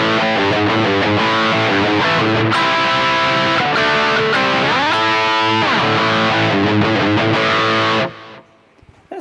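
Loud electric guitar through a Marshall-in-a-box style overdrive pedal, not through an amp, playing sustained chords and bends with a gritty, distorted tone, stopping abruptly near the end.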